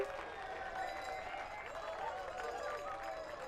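Crowd of fans in the Torino 2006 winter sports video game on PS2, cheering and applauding at a luge medal ceremony, a steady, moderately faint wash of crowd noise across the whole stretch.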